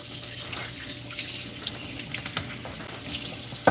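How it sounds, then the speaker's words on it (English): A kitchen faucet runs steadily into a sink while hands are washed under it, a close continuous splashing stream with small sloshes, no voices. "So let me wash my hands real quick here."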